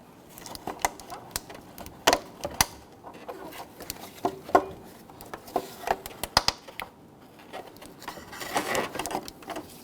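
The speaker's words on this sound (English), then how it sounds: "I'm going to use my pry tool here, my trim tool, to pop these out." Close, sharp plastic pops and clicks as a trim pry tool pries plastic harness retainers loose on a Hummer H3, an irregular run of snaps and rattles with brief speech now and then.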